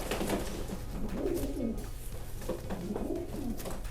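Racing pigeons cooing nearby, with soft repeated throaty coos rolling over one another against a steady background murmur.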